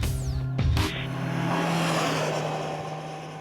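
A 2017 Kawasaki Z900 motorcycle engine with its six-speed gearbox gives a loud, close intake roar, a sharp burst rising and then holding a steady, strong drone. No one speaks.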